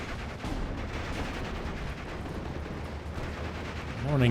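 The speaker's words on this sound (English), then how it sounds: "Mortars are firing." Mortar fire in the WWII strategy game Steel Division Normandy 44 sounds as a dense, rumbling barrage of low booms and crackling gunfire, continuous and fairly distant, with a brief voice rising near the end.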